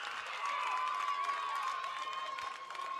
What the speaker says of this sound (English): the crowd here at Youngstown State goes wild